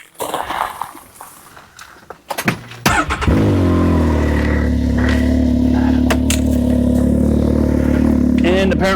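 A Can-Am Maverick X3 DS Turbo side-by-side with a Yoshimura exhaust cranks and fires up, settling into a loud, steady idle that drones close by after some brief handling noise and faint talk.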